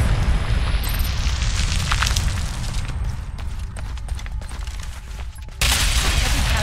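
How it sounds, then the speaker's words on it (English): A grenade blast and the roar of a firefight fill a video game match, a dense, loud wash of explosion and gunfire rumbling continuously before a sharp, louder burst near the end. "I'm gonna nade it"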